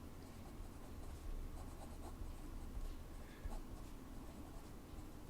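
A Montblanc Meisterstück Classique fountain pen scratches softly across paper in a close, quiet, continuous rustle of writing strokes without any voice.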